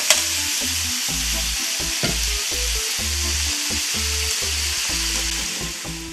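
Tomato goes into a paella pan of frying meat, onion and pepper, setting off a loud, continuous sizzle with a rhythmic series of knocks and scrapes from stirring.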